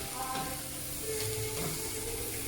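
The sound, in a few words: wood ear mushrooms sizzling while frying in a pan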